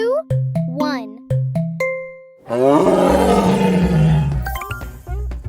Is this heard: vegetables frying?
no